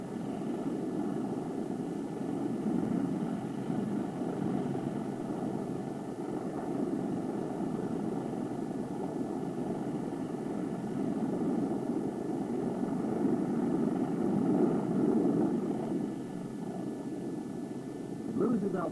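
A Ryan Firebee drone drops away from a Douglas B-26 in flight, heard as a steady, moderately loud droning aircraft engine hum that swells slightly near the end, with no voices.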